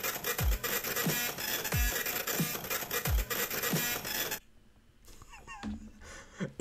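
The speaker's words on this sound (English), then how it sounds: "and we got a printer-based song." A chiptune-style song from Undertale built from printer sounds, with rhythmic mechanical whirs and low thuds repeating in a steady beat, loud and close, before dropping to a quieter stretch with faint chirping tones.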